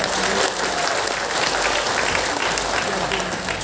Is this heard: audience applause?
yes